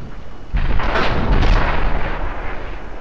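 Gunfire from Ballistic, a Facebook shooting game: dense bursts of booming shots and blasts, loud and close, filling most of three seconds with no talk over them.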